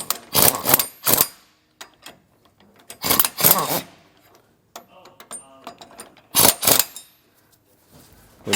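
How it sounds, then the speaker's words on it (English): Wrench working the U-bolt nuts on a Roadmaster Exact Center steering stabilizer fitted to a 2019 Fleetwood Bounder motorhome, heard as three bursts of close, loud ratcheting clicks separated by quieter metallic handling. "you want to torque these to the specs on your motorhome"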